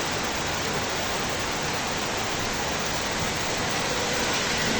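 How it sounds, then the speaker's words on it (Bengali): Heavy rain falls continuously over a town in Pabna district, a thick unbroken roar of drops that stays level throughout with no talking. "পাবনা জেলাতে অবশেষে অনেকদিন পরে রহমতের বৃষ্টি"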